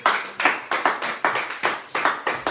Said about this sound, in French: Est-ce qu'on peut acclamer cette parole?